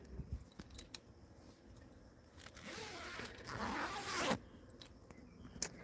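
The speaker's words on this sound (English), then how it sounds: "I'm zipping this up." A zipper on a butterfly garden enclosure is drawn closed in one long, rasping pull lasting about two seconds, close by and moderately loud, framed by small clicks and handling noise outdoors.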